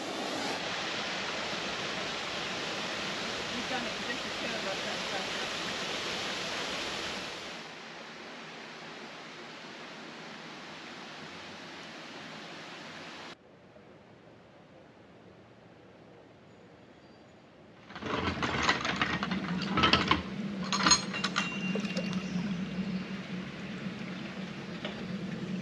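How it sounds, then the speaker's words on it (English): Steady broadband rushing of water at a canal lock gate, loud and continuous, dropping to a quieter hiss midway before a rougher, clattering surge returns near the end. "you can hear all the noise from the lock gate"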